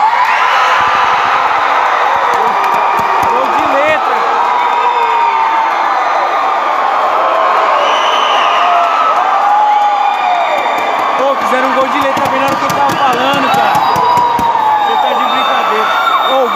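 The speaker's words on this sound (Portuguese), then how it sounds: "Tem 3 meninas aqui atrás de mim gritando, bem louco." Girls scream and cheer at a futsal championship final, a loud, dense crowd roar with shrill shouts rising and falling continuously, close by and filling the whole stretch, with talk mixed in.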